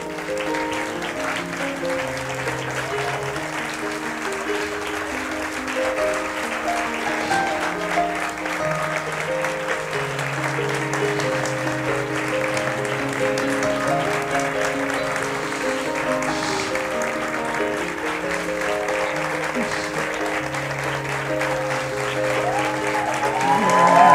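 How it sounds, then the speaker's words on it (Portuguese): Sustained audience applause filling a hall at an emotional closing ceremony, dense and steady for the whole stretch and swelling louder toward the end, with music and faint voices underneath. "Esses aplausos são para todos nós"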